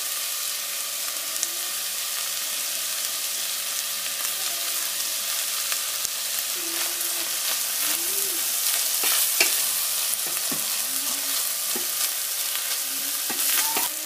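Bolognese sauce sizzles steadily in a pan as spices are added and stirred in, a constant close frying hiss with occasional light scrapes and clinks of a utensil.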